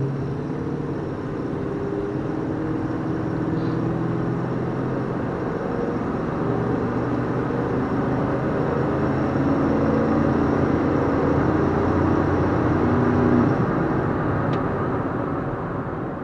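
A car on a dyno run at wide open throttle up to 100 km/h, then released into neutral and coasting, a steady loud low engine and road roar that swells slightly before easing, with no voices.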